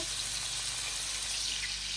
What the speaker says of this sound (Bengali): চিংড়ি মাছগুলোকে আমি ম্যারিনেট করে নিয়েছি তো ভাজার জন্য ভাবলাম যে একটু ভাজি নেই তো এটা ভাজতেছি